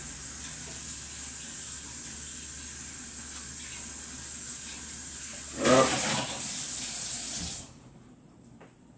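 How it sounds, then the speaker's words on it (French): A whisk is rinsed under a running kitchen tap while making a sweetened condensed milk cake. A steady hiss of flowing water swells briefly as the whisk goes under, then cuts off, close and moderate. "Alors, on le passe sous l'eau."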